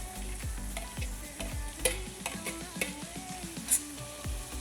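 Onions and chili frying in a pan for a mung bean and chicken dish, a steady sizzle punctuated by repeated metallic knocks and scrapes of a ladle stirring.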